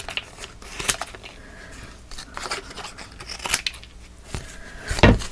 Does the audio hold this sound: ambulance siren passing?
no